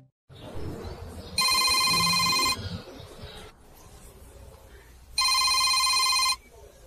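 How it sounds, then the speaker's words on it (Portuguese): A telephone rings in two long electronic bursts separated by a pause, loud and close, with room noise and movement between the rings. "Telefone do coronel."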